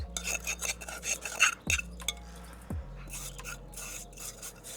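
Wet soil is scraped and scooped out of a plant pot while repotting a lemon cypress, close gritty scratching strokes with a few hard knocks against the pot, no talking.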